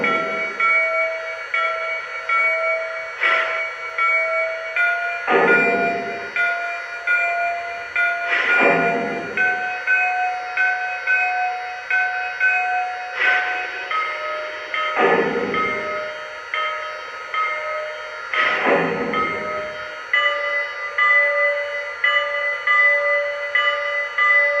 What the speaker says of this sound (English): let's check out the 5 bell tones